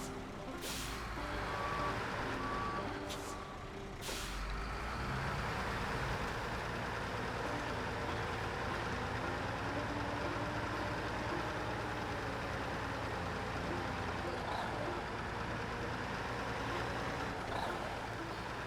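An ANK MK38 truck in SnowRunner drones with a steady, loud engine throughout, broken near the start by a few sharp air-brake hisses and a faint beeping tone.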